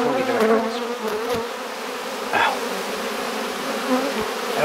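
Honeybees at a hive during an August swarm, a dense, continuous buzzing drone that stays loud and close throughout with no one talking.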